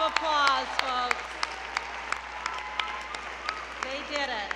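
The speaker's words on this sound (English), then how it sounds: "One more round of applause, folks." Audience at a 2015 high school graduation ceremony in Los Angeles County clapping, with scattered sharp claps over a faint wash of applause, and a voice speaking on top.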